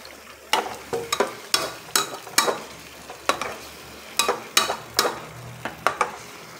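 Spaghetti sauce sizzles loudly in a pan while a spoon stirs and scrapes, giving a dozen sharp, irregular clacks over a steady frying hiss, close and alone without talk.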